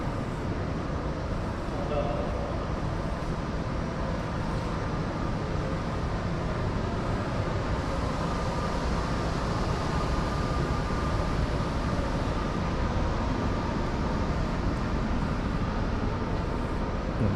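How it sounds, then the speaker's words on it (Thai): Steady, continuous rumble and rushing noise inside a moving EMU electric train on the Laos–China railway, constant in level throughout with no distinct events. "ได้มาขี่ รถไฟ EMU ครั้งแรกแล้วก็รู้สึกว่าตื่นเต้น"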